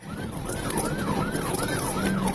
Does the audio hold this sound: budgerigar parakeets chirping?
no